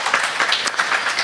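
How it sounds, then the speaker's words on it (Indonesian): A brief burst of dense audience applause rises at a halal certification outreach meeting for small businesses. "Tepuk tangan untuk kita semua."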